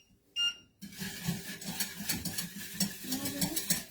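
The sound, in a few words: stirring strawberry sorbet mixture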